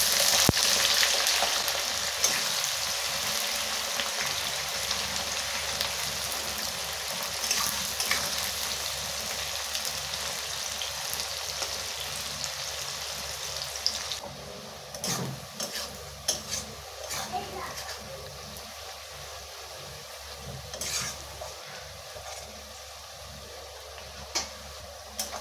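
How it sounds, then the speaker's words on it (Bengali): Chopped onions fry in oil with cardamom, cloves and cinnamon for a chicken dish, giving a soft, continuous sizzle with occasional stirring clinks of utensil against pan, growing quieter partway through. "পেঁয়াজটা লাল লাল করে ভাজা হয়ে গেছে"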